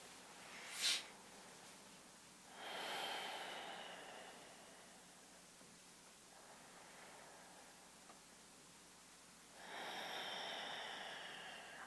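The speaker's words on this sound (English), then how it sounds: "Still your hands back onto your tummy and breathe into your hands." Slow, deep breaths during a quiet yoga session: a soft sniff near the start, then two long airy exhales several seconds apart, faint and close against a low hush.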